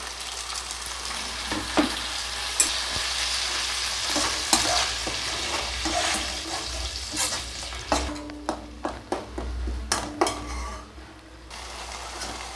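Steady frying sizzle with a spoon repeatedly stirring and scraping in a pan, sautéing ingredients for coriander rice, clinks of metal on metal growing sharper toward the end.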